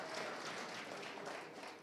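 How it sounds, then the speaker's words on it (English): An audience at a farmers engagement day in the Omaheke region claps in a brief, even burst of applause, a dense crackle of many hands heard faintly and alone. "Please, let's give our chairperson a round of applause for that."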